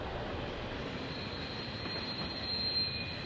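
A Norfolk Southern train rolls past outside a home in Cohutta, Georgia, a steady rumble of railcars with high metallic wheel squeal ringing over the top, fairly close and continuous.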